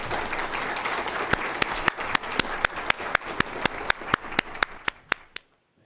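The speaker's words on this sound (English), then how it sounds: "Let's give a round of applause for Robert Cunningham of the Hamilton County" A crowd at a Veterans Day commemoration applauds, a dense patter of many hands that thins out into a few scattered, loud individual claps before stopping.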